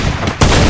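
Sniper shot in the mobile battle royale game Free Fire, a single loud, sharp blast after a brief lead-in, close and dominant with no talk over it.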